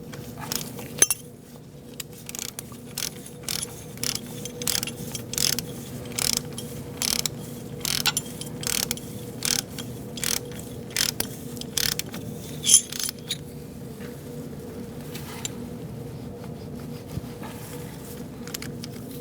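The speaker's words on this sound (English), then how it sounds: "Let's tighten up the bolt." A ratchet tightens the brake hose bolt on a 2004-2012 Chevrolet Colorado, clicking in short repeated close bursts over a steady background hum.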